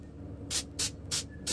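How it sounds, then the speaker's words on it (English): Cooking spray hisses onto a muffin pan in three short, close bursts with brief pauses between them over a quiet kitchen background. "Let me spray the pan first."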